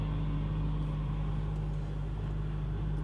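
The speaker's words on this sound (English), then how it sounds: "Buses are going by and everything." Steady low rumble of road traffic on a city street, with buses passing on Ocean Avenue in San Francisco in the morning; the engine drone is continuous, with no pauses, and no voices are heard.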